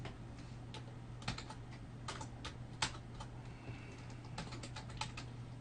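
Clicking keystrokes on a computer keyboard while writing code, steady irregular taps at close range over a low constant hum, with no one talking.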